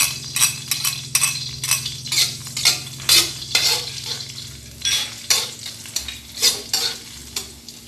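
Garlic sautéing in hot cooking oil for chicken arroz caldo, a steady close sizzle broken by repeated scraping stirs and clinks of a spatula against the pan, with a low steady hum beneath.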